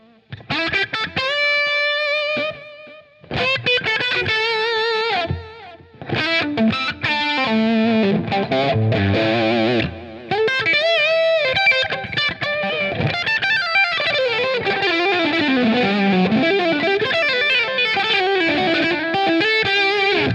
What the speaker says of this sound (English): So then I added the delay in, which like I was saying before, same snapshot as the lead, just with the delay, the Cosmos Echo